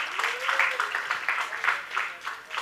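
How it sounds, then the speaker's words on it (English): A lecture audience at a talk on legal advocacy claps for itself, with dense overlapping clapping in an irregular rhythm mixed with voices and some chatter. "Let's clap for ourselves."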